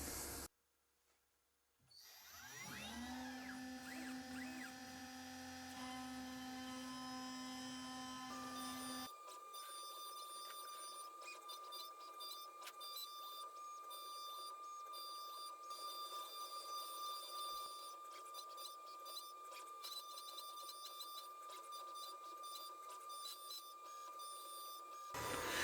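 Machine tool milling PEEK plastic flux capacitor covers with a steel-milling cutter, a steady high whine with a held tone that shifts partway through and continues evenly, with faint ticking above.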